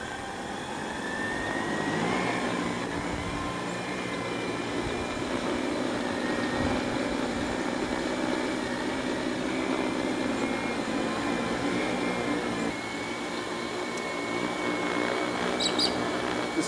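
An armed microdrone used for power line inspection runs its motors steadily, producing a loud continuous whirring drone with a constant tonal whine that holds for the whole stretch, with no talk.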